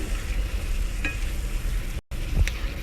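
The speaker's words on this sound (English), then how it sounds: "stir that into our mushrooms and our onions. Let that brown for a second." Garlic gets stirred into mushrooms and onions frying in a pan, with a steady close sizzle, a couple of light utensil taps, and a brief dropout near the end.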